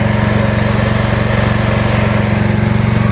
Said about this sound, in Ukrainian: тут зараз увімкнений економ режим. Та він працює на газу.